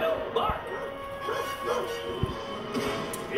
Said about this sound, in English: this dog's only plan is to bark at the vet's bed.